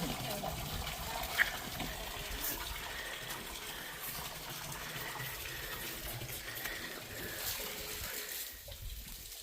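Running water flows steadily into a catfish tank to keep it bubbling and oxygenated, giving a constant broad gushing wash that stays close and even throughout.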